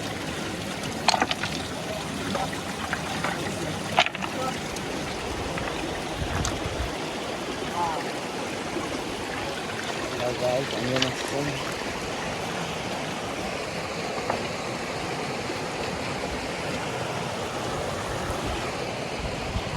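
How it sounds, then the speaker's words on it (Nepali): A small waterfall spills into a village stream, giving a constant broadband rush of flowing water that stays even throughout, with people talking nearby. "यता त झर्रा आउँदो रहेछ के हो कि पानी यहाँ होइन झर्नाले माथि"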